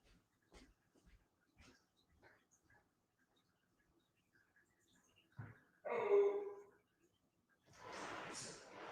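A dog whimpers and whines in a short high, breathy burst partway through, followed by a longer airy whine or pant near the end, with faint household movement beforehand.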